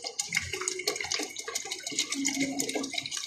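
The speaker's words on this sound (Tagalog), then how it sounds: "Lagyan natin ng tubig mga lodi para medyo dumami-dami ang sabaw." Water is poured steadily into a cooking pot of mung bean soup with lemongrass, making a continuous splashing, gurgling rush that fills the whole stretch.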